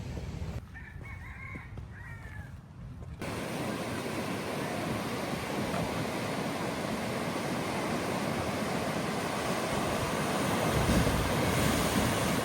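Surf at Poipu Beach on Kauai washes in as a steady, loud broadband roar, with a rooster crowing close by near the start before the waves dominate alone.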